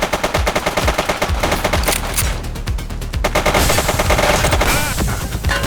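Sustained automatic gunfire in a Little Italy gun battle in the police game The Precinct, a loud, dense rattle of rapid shots with heavy bursts running throughout, no voices.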